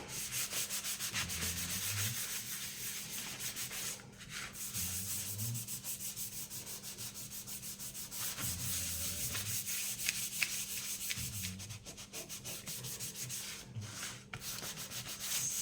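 Steady back-and-forth rubbing of sandpaper over a surface by hand, in repeated strokes with brief pauses, close up and alone.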